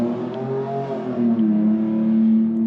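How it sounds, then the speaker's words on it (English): A motor vehicle, a motorcycle or car, passes nearby with a steady engine drone whose pitch sinks slightly as it goes by, fairly loud and with no voices over it. "I'm sure you heard that motorcycle or whatever that was, that car."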